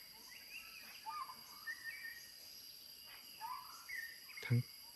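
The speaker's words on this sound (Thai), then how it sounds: "ฟังจากเสียงนกร้องเนี่ยค่อนข้างจะวังเวงมากๆนะ" Birds and frogs call faintly at night in a forest stream valley: scattered chirps and croaks over a steady insect hum, with a soft thump near the end.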